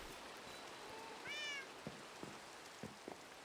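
Cat meow in the video game Minecraft, one short rising-falling meow in the middle, over a faint patter like rain and a few soft clicks.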